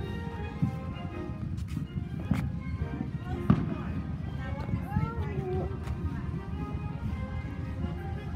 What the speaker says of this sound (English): I just captured a firework.